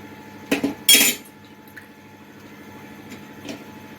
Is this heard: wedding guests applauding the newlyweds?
no